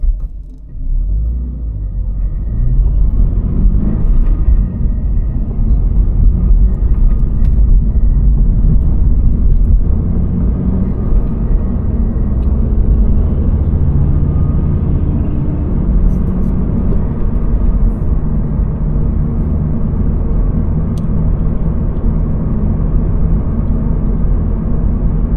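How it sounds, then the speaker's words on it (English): Toyota GR86 cruising at about 45 mph in sixth gear, a steady low engine and road rumble heard from inside the car, even and continuous throughout. "we'll get some just normal driving down this road here at about 40, 45, you know, in 6th gear"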